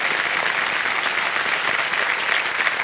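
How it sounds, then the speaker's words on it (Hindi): A studio audience on Kaun Banega Crorepati claps steadily and loudly throughout, dense applause with no pauses or voices standing out. "तालियां बज जाएं इनके लिए"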